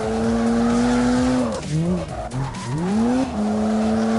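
Car tires skid and squeal through a drift in a racing video game, a loud sustained engine whine bending down and back up as the car slides, with no talk over it.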